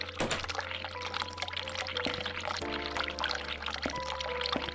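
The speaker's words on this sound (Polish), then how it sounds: "ale odkręć ciepłą wodę" Warm water runs from a sink tap in The Cat Lady video game, a steady pouring splash with a continuous low hum and faint electronic tones underneath, moderately loud and close.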